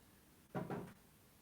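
A door swings shut indoors at home with a short wooden double knock, two quick muffled thumps close together, against a quiet room background.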